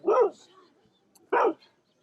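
A dog barks at another dog, two sharp separate barks about a second apart, moderately close in an otherwise quiet outdoor setting.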